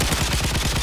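Rapid automatic gunfire in the Modern Warfare 3 video game, a dense rattling burst of shots that fills the whole short moment, loud and harsh.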